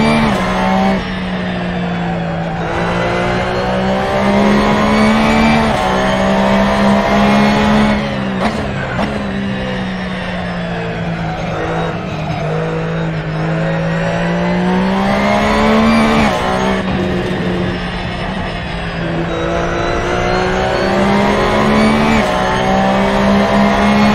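Porsche Carrera GT3 race car in the sim racing game Assetto Corsa, its engine droning loud and steady throughout with rising and falling revs through gear changes and occasional tire squeal.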